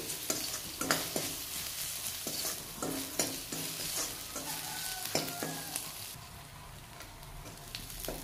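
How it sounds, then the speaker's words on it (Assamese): Crushed ginger, garlic and a green chili fry in a pan with a steady sizzle, punctuated by repeated scraping clicks of a spoon stirring, with no talk. "এইখিনি ভালকৈ ৰঙচুৱা হৈলৈকে ভাজি লম"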